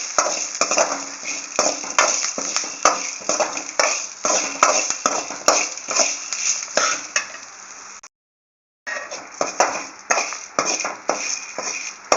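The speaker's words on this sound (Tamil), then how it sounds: "அந்த மிளகாய் வெத்தல் பூண்டு எல்லாமே வந்து நல்லா வதங்கிடுச்சு" Dried red chillies and garlic sautéing in a pan for garlic paruppu podi, with rhythmic close scraping and clinking of a spoon over a light sizzle and a brief silent gap partway through.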